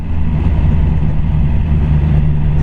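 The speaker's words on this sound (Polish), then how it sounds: "Bardzo gładko chodzi ten silnik, taki jest no taki kurde jak lubię, cztery cylindry" BMW S1000R four-cylinder motorcycle engine running steadily and smoothly, a loud continuous low hum with no breaks or revving.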